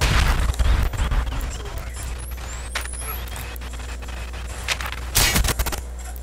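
Shooter game gunfire in Call of Duty, with sharp bursts at the start and again near the end amid a steady low mechanical rumble.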